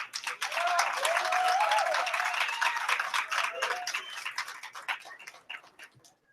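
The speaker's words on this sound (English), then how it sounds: "please give a round of applause to Michael Lee Hill" Audience applause at a gathering welcoming a speaker: steady clapping from a modest crowd, sustained and moderately close, tapering off into a few scattered claps toward the end.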